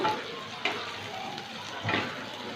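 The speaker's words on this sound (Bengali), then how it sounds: "2-3টে লঙ্কা কুচি দেব। 2 মিনিট একটু ভেজে নেব।" Chopped green chillies with capsicum frying in a pan over high flame, a steady soft sizzle with a couple of brief stirring clatters.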